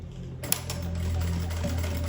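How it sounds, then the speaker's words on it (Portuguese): A sewing machine stitches a backpack seam up close, with a steady mechanical whir after a sharp start and no talking. "Faço aqui a costura."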